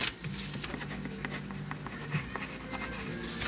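Pen or pencil writing on paper while sketching a flower, a steady close scratching stroke sound that runs continuously with small rhythmic variations, alone with no talk.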